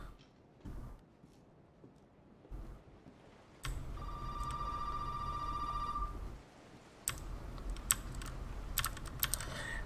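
A telephone in Resident Evil 7 rings with a steady electronic trill for about two seconds amid game ambience, with keyboard clicks around it.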